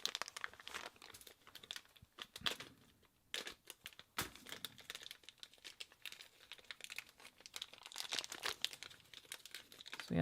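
Small FPV drone motors being unpacked from crinkly plastic packaging, close and quiet, with irregular crackles and rustles and a few sharper crunches and tears spread across the clip.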